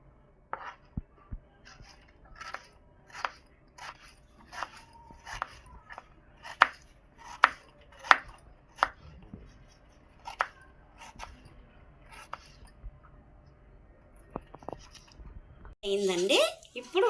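A knife slices thinly through an ingredient for chicken dum biryani, a steady row of sharp, close taps about every half second, followed at the end by a burst of louder, messier noise.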